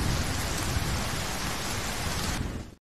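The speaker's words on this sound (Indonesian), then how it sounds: "di luar hujan turun sangat deras" Heavy rain pours in a dense, loud hiss with thunder rumbling underneath during a film scene, continuous until it cuts off abruptly near the end.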